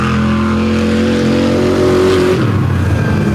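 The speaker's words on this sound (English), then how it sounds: "Hear the thump of that big Oldsmobile engine as he heads off the track." A big Oldsmobile engine in a drag racing car throbs loudly nearby with a deep steady rumble, then the pitch drops and it shifts into a lower, rougher thump as the car leaves the track.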